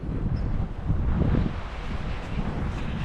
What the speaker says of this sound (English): It's super windy, sorry.